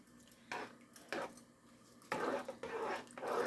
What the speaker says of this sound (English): then we're just going to stir that up